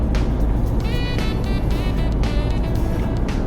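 A Porsche drives past in downtown Powder Springs, its engine a steady, loud broadband roar with a rising whine that fills the whole moment, heard close by.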